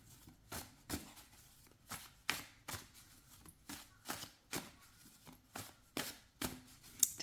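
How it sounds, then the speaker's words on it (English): Repeated soft slaps of a tarot deck being shuffled overhand, a steady rhythm of light packets dropping, close up and fairly quiet. "overhand shuffles"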